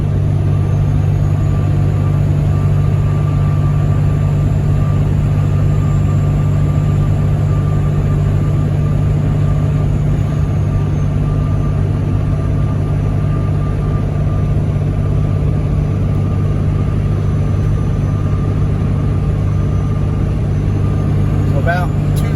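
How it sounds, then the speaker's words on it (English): A Cummins diesel Ford F350 pickup cruising on the interstate at highway speed while towing, giving a steady, continuous low engine drone and road rumble throughout with no break in the noise. "just see how the truck drives"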